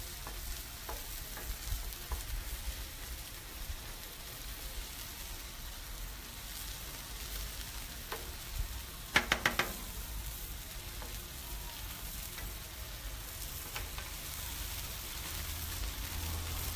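Food sizzles steadily on a Blackstone flat-top griddle while being stirred for Mexican street corn and rice with steak, with a brief cluster of sharp spatula scrapes midway over the constant frying hiss.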